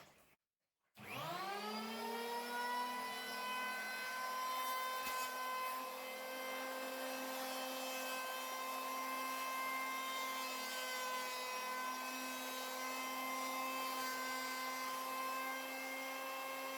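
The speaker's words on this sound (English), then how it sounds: "for this particular project I'm going to be using the electric planer" An electric planer spins up after a brief silence and runs steadily and loudly on wood, with a sustained high whine and no talking.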